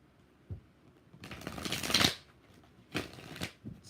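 A deck of tarot cards being shuffled: a couple of quick riffling bursts separated by soft taps and handling, close and fairly quiet.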